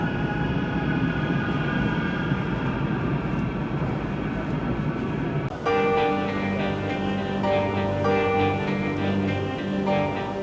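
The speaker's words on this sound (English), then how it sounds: "there's a train going above" A train rumbles overhead on a city-centre viaduct in Manchester, a loud continuous roar that gives way to tonal whining and humming as it passes, with no talk over it.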